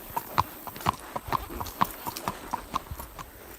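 Distinct hollow clops of horse hooves on a concrete slab, a slow, uneven series of individual steps, close and fairly crisp.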